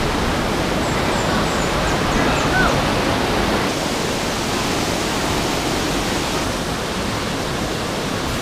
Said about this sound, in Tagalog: This is Tanawan Falls.